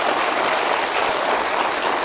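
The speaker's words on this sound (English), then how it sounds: "Give Jesus a hand clap." A church congregation claps hands together in a dense, steady burst of applause that lasts the whole moment, loud and filling the room.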